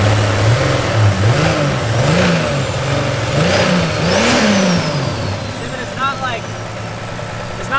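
A damaged 2JZ engine swapped into a Mustang is revved in a string of quick blips, each rising and falling, up close, before it settles back to a rough idle.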